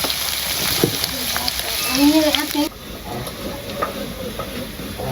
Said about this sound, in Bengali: এই যে পেঁয়াজ ভাজা হয়ে গেছে